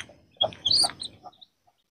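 A hen with her chicks at a night feeding, giving a few soft, close clucks and chirps over about a second before falling quiet.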